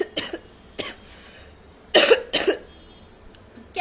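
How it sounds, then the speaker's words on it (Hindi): Someone with a mild cough during a live talk coughs several times, a couple of brief light coughs followed by two louder, harsher close-up coughs, with short quiet gaps between. "मुझे थोड़ा खांसी है"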